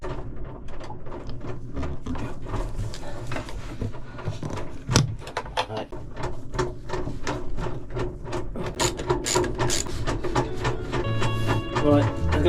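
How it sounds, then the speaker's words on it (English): Bolts being undone on the pump housing of a Jabsco marine sea toilet, heard as a run of close ratchet clicks and metallic clatter over a steady background hum. "We've got to undo these 4 bolts."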